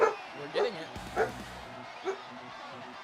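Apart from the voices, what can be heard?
dog barking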